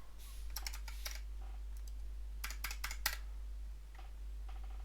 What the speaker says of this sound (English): So I'll type that in right now.